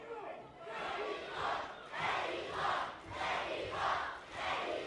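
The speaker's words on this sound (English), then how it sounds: "As this crowd comes to life once again with the chant of Mexico, Mexico" A lucha libre wrestling crowd chants "Mexico, Mexico" in a rhythmic, rising and falling pattern of about four swells, distant and fairly faint, with the massed voices echoing through the arena.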